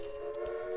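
Trains running on rail lines in the strategy game Railway Empire give a steady, continuous rolling tone with a sustained whistle-like hum throughout, moderately loud and without talk.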